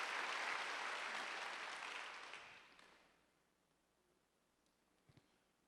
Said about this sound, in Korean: 박수를 한번 주세요.